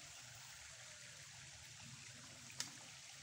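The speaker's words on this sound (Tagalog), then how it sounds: "Ito na sapa mga idol." A forest stream flows quietly in the distance, a soft, even trickle of water with no speech. A brief sharp click sounds near the end.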